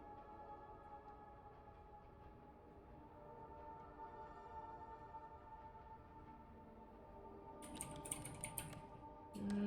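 Steady typing on a computer keyboard, a fast run of soft key taps, then a short louder burst of clicks near the end, with no voices.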